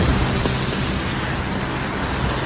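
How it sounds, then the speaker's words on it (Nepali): Heavy rain falling during a typhoon in Japan, a dense, steady hiss that stays even throughout the short stretch with no voices. "आज जापानमा एकदम ठुलो पानी परेको छ, टाइफुन चलिरहेको छ।"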